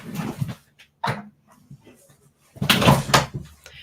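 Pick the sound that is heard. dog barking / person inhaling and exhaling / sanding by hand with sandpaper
dog barking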